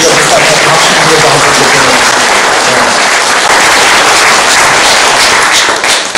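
Audience at a monthly forum lecture gives sustained, dense applause that fills the room at a steady level, with a few louder claps near the end.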